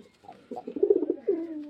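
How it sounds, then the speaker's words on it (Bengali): A single close pigeon coo, a soft throaty rolling call rising and then trailing off. "পায়রার স্ট্যান্ডিং কলটি দেখুন"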